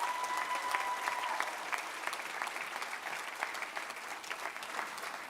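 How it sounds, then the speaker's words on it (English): An audience at a school board employee appreciation awards evening claps in sustained, even applause that carries from start to finish, a dense patter of many hands with no voices. "Let's give Maria one big round of applause."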